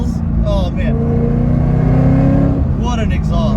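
A car with a Corsa Extreme Plus catback exhaust pulls through about 3,000 RPM. The deep exhaust drone is loud and close and changes pitch as it accelerates. Someone talks over it at the start and end.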